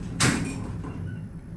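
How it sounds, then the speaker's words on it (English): An old Otis elevator door operator at Evans Library in College Station, Texas, gives a single loud, close clunk, then a steady low mechanical hum carries on behind it. "The clunk on the door operator obviously sound original."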